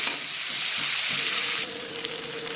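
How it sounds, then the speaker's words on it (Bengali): Onions frying in oil in a pan while being stirred, a loud dense sizzle with scraping and shuffling stir noises, close and continuous with no voices. "আর কী করবো বল, পেঁয়াজটাকে একটু নাড়িয়ে নিই ততক্ষণ।"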